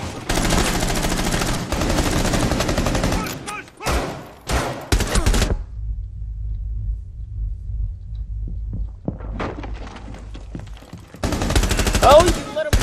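Dense bursts of automatic gunfire in Rainbow Six Siege, loud and close, drop into a low rumbling lull before another rapid volley erupts near the end.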